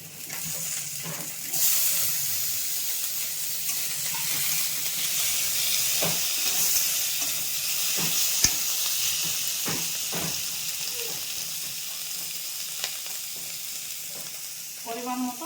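Green chilli and chopped tomato frying in a pan for spinach bharta, a steady close sizzle and hiss with occasional spatula scrapes and clicks, no voices.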